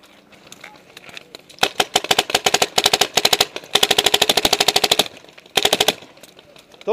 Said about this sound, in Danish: Står en feit kar der og bare skyter 1000 skudd.